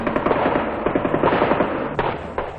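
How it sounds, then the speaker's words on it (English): An M60 general-purpose machine gun fires rapid, loud bursts of closely spaced shots, with a short pause before a few final rounds. "the hard-hitting M60 general-purpose machine gun is considered one of the most important"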